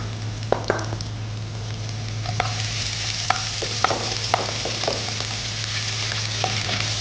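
Chopped sambar onions sauté in hot oil in a pan for a prawn garlic fry, crackling with a dense steady sizzle, broken by sharp stirring scrapes and clicks, with no voices.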